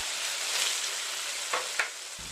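Peanut sauce spice paste for batagor sautéing in hot oil in a wok over a medium flame: a steady, close sizzle with a couple of brief scraping stir sounds near the end.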